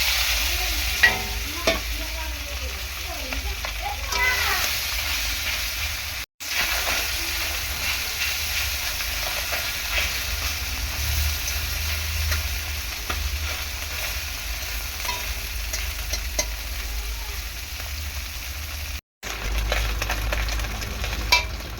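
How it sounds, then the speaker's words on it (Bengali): Small bele fish fry in a pan with a steady, close sizzle and hiss, broken by occasional scrapes and clinks of stirring and turning. "আর কটা মাছ আছে এই কটা ভেজে নিলাম"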